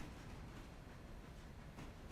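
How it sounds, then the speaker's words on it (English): Train cars rolling in the video game Railroader with a steady, soft rumble and faint click-clack, quiet and continuous without talk. "Click clacks, and you can hear a little bit of steam, and a little bit of a gentle rumble from the cars."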